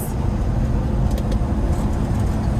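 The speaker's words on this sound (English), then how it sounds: "You can hear the heater coming on, and it is nice and warm." Heater blower fan running inside the cab of a 1966 Ford F100 pickup, a steady, close whooshing roar with low engine rumble beneath, unbroken throughout.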